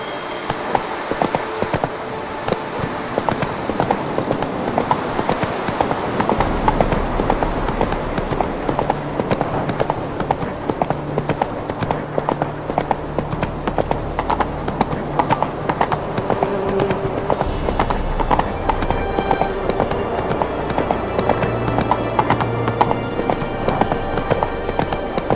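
Roach, a horse in The Witcher 3 video game, gallops with a steady, fast clip-clop of hooves that runs continuously and fairly loud over a low droning background.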